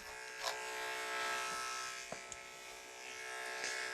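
An electric hair clipper cutting hair during a side-part fade haircut, a faint, steady close-up buzz with a few brief scraping clicks as the blades pass through hair.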